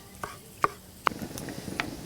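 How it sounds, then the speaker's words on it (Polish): A knife chops saffron milk cap mushrooms into strips on a board, several close, sharp taps at an uneven pace. "a my w tym czasie pokroimy sobie jeszcze rydzę w paski."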